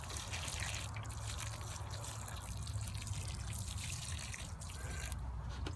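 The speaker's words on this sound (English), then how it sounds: "And water them in." Water trickles and splashes onto newly planted garden plants beside tomatoes, a steady soft pour heard close but quietly, continuous for several seconds with no talking.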